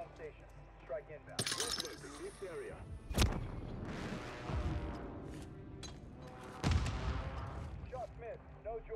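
A precision airstrike in Warzone, heard as heavy distant-to-near booming blasts at irregular intervals among gunfire, with a player's voice talking over it.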